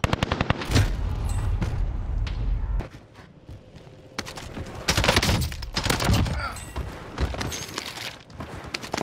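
Gunfire in Call of Duty Vanguard Warzone on Rebirth Island, with loud rapid automatic bursts and sharp shots, a brief lull mid-way, then renewed heavy firing.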